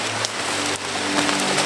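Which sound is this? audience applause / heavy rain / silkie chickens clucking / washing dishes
heavy rain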